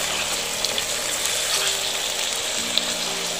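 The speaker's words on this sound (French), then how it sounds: "je précuis la viande" Beef strips pre-cooking over high heat in a sauté pan for a Comorian beef, onion and bell pepper dish give off a steady, loud, broadband sizzle. The hiss is continuous and close, with small crackling pops scattered through it.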